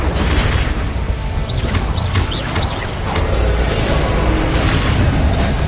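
A Confringo explosion spell in Hogwarts Legacy gives loud booming blasts and crashing bursts, with faint bird-like chirps amid dense, continuous game noise.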